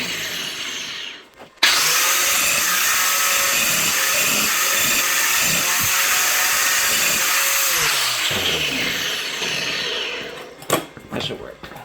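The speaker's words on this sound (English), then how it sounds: "I have a grinder right here." Angle grinder grinding metal for a nail bending jig, a loud sustained high whine for about nine seconds that winds down at the end, with a short clatter after and talk around it.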